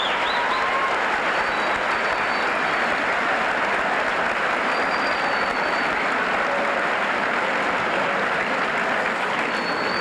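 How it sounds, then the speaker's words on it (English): A school student body at a fall sports assembly applauds, a thick, unbroken wash of clapping from a large crowd that stays loud and even throughout, slightly muffled as on an old recording. "I think he deserves a great round of applause for that"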